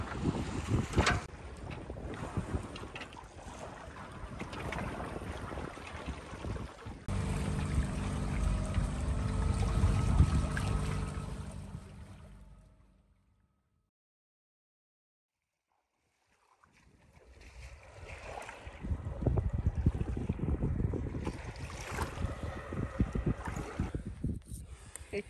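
A sailboat moves under wind on the Sea of Cortez, with heavy wind buffeting and rushing water against the hull, loud and rough, dropping to near silence midway before the gusts and splashing return.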